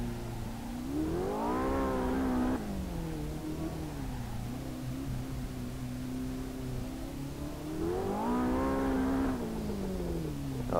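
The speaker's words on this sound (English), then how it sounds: "Oh, there's the backfires." Car engine in the Assetto Corsa racing game on the Mount Akina course, revving up and dropping twice in a loud, steady drone with rising and falling pitch.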